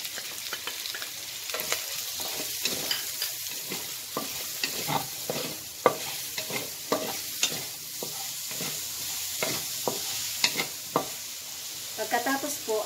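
Garlic sizzling in oil in a pan for Filipino laing, with steady frying hiss punctuated by repeated rhythmic scrapes and taps of a utensil stirring, fairly quiet and close.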